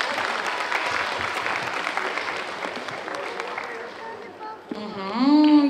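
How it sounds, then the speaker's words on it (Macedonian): Children's festival audience applauding for a pair of young twins, a dense steady wash of clapping that fades toward the end, then a voice and a rising electronic tone take over. "Ајде аплауз за нашите близнаци."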